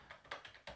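Several quiet keystrokes on a computer keyboard during Linux setup, a few quick soft taps close to the microphone.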